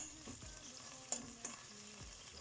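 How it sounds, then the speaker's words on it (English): Onion frying in a little ghee in a pot, a low steady sizzle with soft intermittent stirring scrapes and a few light clinks, close and fairly quiet. "I'm going to add the onion and let the onion fry in here"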